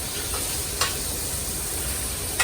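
Meat browns in a pan for cassoulet, a soft steady sizzle close by with a couple of faint stirring scrapes, no voices.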